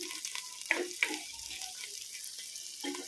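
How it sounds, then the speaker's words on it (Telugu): Sliced okra and onions fry in a village-style pan of hot oil, giving a steady, fairly quiet sizzle broken by a few brief crackles and clinks, with no talk. "4 బెండకాయలు వేసి ఇవి కూడా వీటితో పాటు వేయించుకోవాలి."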